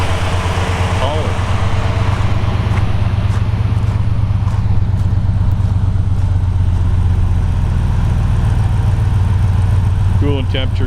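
A 1957 Ford Courier Sedan Delivery with a 302 HO EFI V8 idles cold on a lift, a steady close low rumble running throughout as the idle settles, with someone talking over it.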